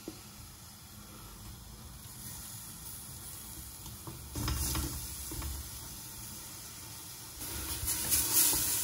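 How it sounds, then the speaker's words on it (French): Garlic, onion and basil sauté gently in olive oil with a soft, steady sizzle and hiss that swells briefly around the middle and again near the end, with occasional stirring. "le reste est notre préparation ail, oignon, basilic. On va faire revenir ça tout doucement."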